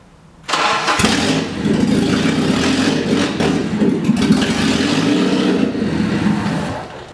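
A barn-find BMW E36 cranks and starts, its engine catching abruptly and then running loud and close, rough and steady with a few revs rising over the idle, fading at the end.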